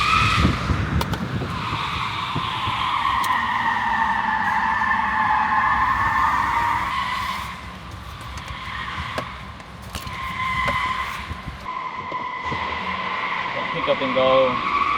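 An electric car launches hard at the North Texas Auto Show 2025, with a loud, sustained tire squeal and skidding whine held for many seconds. The squeal dips briefly midway, then returns, while people talk nearby.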